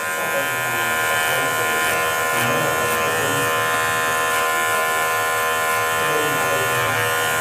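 An electric hair clipper set to a zero guard cuts hair, giving a steady, close, continuous buzz with slight wavering as it moves through the hair, with no talking.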